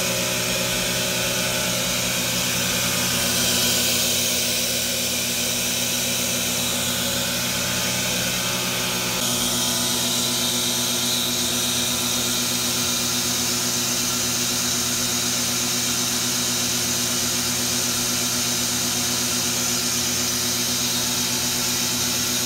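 A 30-plus-year-old milking vacuum pump engine without a proper exhaust gives a loud, steady drone with a constant hum and broadband roar, running unchanged throughout with no talking.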